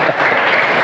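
Audience applause at a school event honoring a gold medal for best religious unity, a steady dense clapping wash filling the whole moment without voices.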